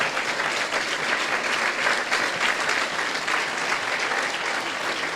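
A congregation at a sermon applauds vigorously, a thick, continuous roar of many hands clapping at a steady level from start to finish, with no voices rising above it.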